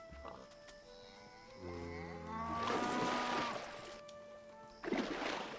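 A cow lows in the Minecraft video game, a long drawn-out moo rising and falling over a few seconds, loud and near, followed by a short burst of noise.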